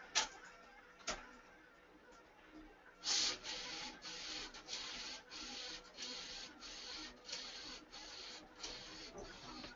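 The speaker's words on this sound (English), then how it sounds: "So let's see how fast this thing is printing." A DTG printer printing a shirt, its print head sweeping back and forth in a regular rhythm of soft whirring passes, with a brief louder clunk early on.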